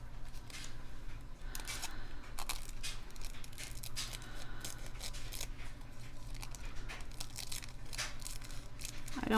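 Scissors trim a sheet of paper covering, as if wrapping a journal cover, producing a run of soft, close snipping and rustling cuts with no talk.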